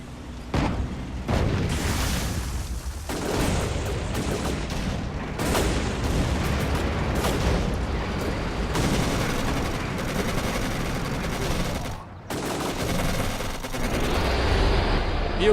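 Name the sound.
gunfire and artillery in the Codename: Panzer video game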